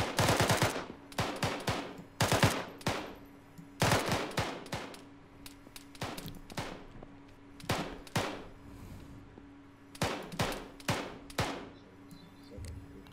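Machine gun suppressing fire in the military simulation game Arma 3, repeated bursts of rapid shots coming in clusters with short pauses between, fairly loud and close, no talking during the firing.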